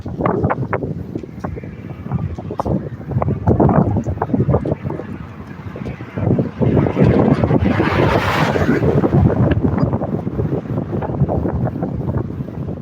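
Strong wind beside the Horseshoe Falls at Niagara Falls, loud roaring gusts buffeting the microphone continuously, rising and falling in rough bursts throughout.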